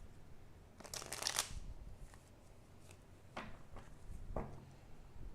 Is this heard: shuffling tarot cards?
yes